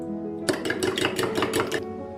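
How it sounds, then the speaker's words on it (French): Eggs are whisked vigorously in a bowl for a banana bread batter, producing about eight quick, evenly spaced scraping strokes in a short close burst that stands alone. "Mélangez vigoureusement les œufs."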